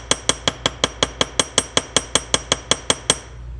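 A steel hammer strikes metal wire laid on a steel plate about fourteen times in a quick, even rhythm, each ringing clink loud and close.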